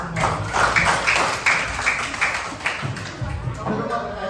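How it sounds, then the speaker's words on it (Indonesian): A classroom of students claps together in a lively, uneven patter of hands, rising and fading over a few seconds with some voices mixed in. "tepuk tangan semua."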